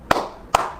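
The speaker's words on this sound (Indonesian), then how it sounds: "Tepuk tangan teman-teman." Two separate hand claps, close and sharp, spaced about half a second apart with nothing else between them.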